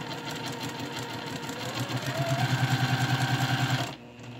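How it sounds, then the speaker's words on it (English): A sewing machine stitches fabric lining close by, its motor whirring and the needle thumping in a fast, steady rhythm before it stops. "Let's sew our lining right here."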